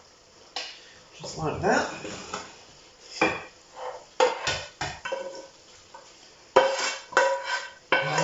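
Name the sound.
pasta being transferred from pan into a serving dish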